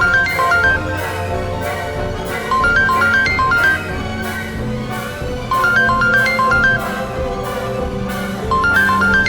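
A mobile phone rings with an incoming call, playing a repeating melodic ringtone phrase in regular cycles. It is loud and close, continuous throughout with no talking.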